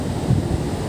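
Big ocean waves wash on a beach during the high-surf season, a steady roar of surf mixed with wind buffeting the microphone.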